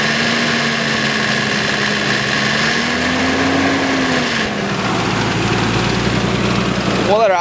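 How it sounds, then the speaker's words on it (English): A car engine idles steadily nearby, a continuous low drone with a slight wavering pitch, briefly rising near the end. "We'll let her idle for a bit."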